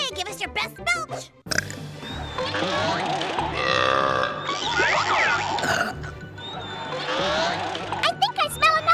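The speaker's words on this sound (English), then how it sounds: "give us your best belch." A child contestant at a kids' burping contest lets out long, loud, gurgling belches, close up, with audience and host voices around them.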